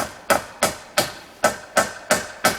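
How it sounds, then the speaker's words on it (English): Hammer blows ring out as a deer fence is put in, seven sharp, evenly spaced strikes about a third of a second apart, loud and close, each ending in a brief ring. "as much fun as it is to watch you hammer in this fence"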